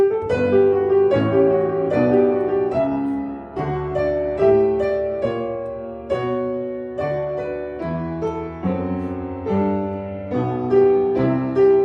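Pipe organ chords from a Bach organ sonata moving through a slow harmonic progression, each chord held then changing, loud and resonant, with no talking.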